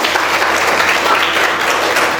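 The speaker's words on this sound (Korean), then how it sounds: "박수를 쳐야 될 것 같은데" A church congregation applauds a member's birthday during a Sunday morning service at a summer retreat, with close, dense clapping sustained at full volume.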